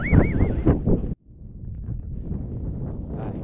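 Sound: strong wind at a seaside beach

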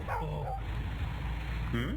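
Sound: dog barking in video game Whack The Burglars

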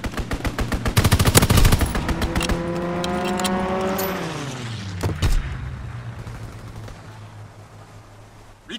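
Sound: fighter pilot strafing gunfire in Call of Duty video game

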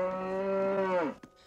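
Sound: cow mooing in the movie Top Secret!

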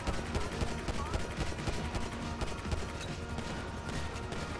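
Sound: gunfire in the video game GTA V

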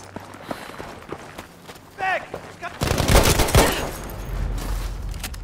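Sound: gunfire in the video game Battlefield V

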